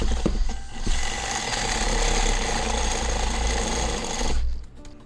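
A loud, continuous power drill grinding through a solid steel pipe, running steadily for several seconds before cutting off near the end.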